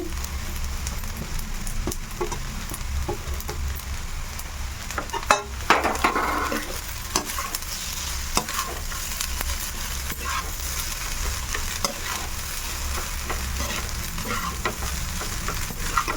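Carrot rice is stir-fried in a pan: a steady sizzle with scraping and stirring clatter from the utensil, including a few sharper knocks, continuous and close with no talking.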